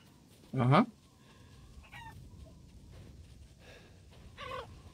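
A chicken in the video game Resident Evil Village gives one sharp loud squawk, followed by a few softer clucks spread apart, with faint game ambience beneath.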